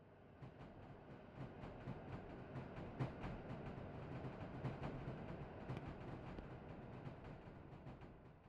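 A train rolls into a station in the SimRail railway simulator, a steady rumble with rhythmic wheel clicks over rail joints, moderately loud and continuous, with no voices.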